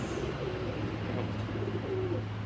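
A Belgian racing pigeon coos softly in low, repeated murmuring phrases over a steady background hum, close by and fairly quiet.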